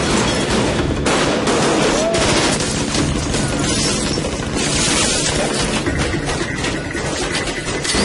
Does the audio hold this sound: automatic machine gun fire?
yes